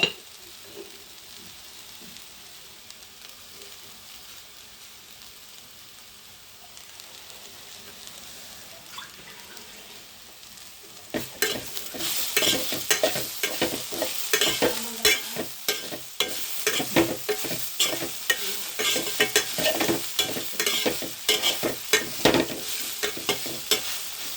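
Food stirred with salt in a pan: a quiet faint sizzle for about ten seconds, then a loud, busy stretch of rapid spatula scraping and clattering against the pan over continuous frying, close up.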